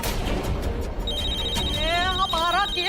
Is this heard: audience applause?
no